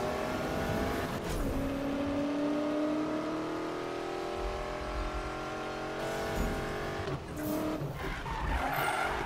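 A car drifts around corners in the Need for Speed racing game, with a '69 Mustang BOSS build in play, its engine droning loudly and tires squealing and sliding continuously throughout.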